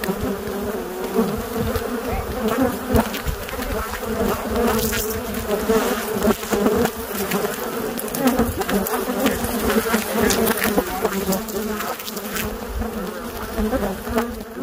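A large swarm of Africanized killer bees drones continuously in southern Arizona, a dense, loud, close buzz that never lets up, with no talk over it.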